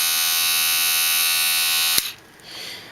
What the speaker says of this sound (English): It looks like a big electric toothbrush. As a matter of fact, I'll turn it on so you can see.